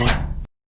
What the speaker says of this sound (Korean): 찜찜한 기분에 서둘러 문을 열고